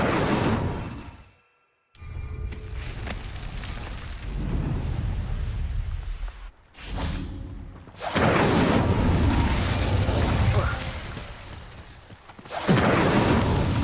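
Incendio fire spell from Hogwarts Legacy bursts in loud whooshing, rumbling blasts, several separated by short silences, each swelling and fading, with no talk.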